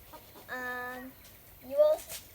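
Two drawn-out, tonal hen calls a moment apart, the second slightly louder and rising, with quiet background otherwise.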